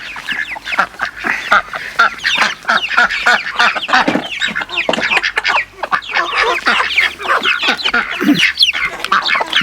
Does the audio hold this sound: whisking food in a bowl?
no